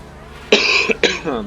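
Two loud, close coughs in quick succession, each a sharp burst, against faint background hum.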